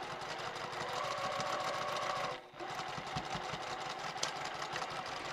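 A sewing machine stitches a tote bag seam with a steady whirring hum, pauses briefly, then resumes with slower uneven stitching, close and moderately quiet.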